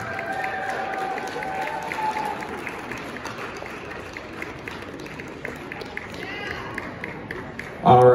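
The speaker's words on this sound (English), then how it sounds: "Give them a round of applause." Audience applause at the 2020 ATC Battle of the Bands, a steady, dense wash of clapping lasting throughout, with faint tonal sounds in the background and a brief louder burst at the very end.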